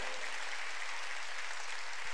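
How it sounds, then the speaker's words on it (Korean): A church congregation at a Wednesday worship service claps to give glory to God, a soft, even wash of applause that sounds distant and muffled, heard alone for a couple of seconds. "빨리 박수로 하나님께 영광 돌려"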